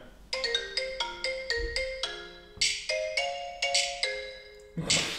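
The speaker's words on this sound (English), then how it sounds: "Anyway, this is my ringtone." A bright electronic ringtone melody plays alone, quick repeated plucky notes in a looping pattern, fairly loud and close.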